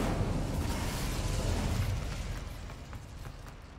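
Hogwarts Legacy's Incendio fire spell erupts as a loud, dense whoosh and rumble of flame, strongest at first and tapering slightly over a few seconds.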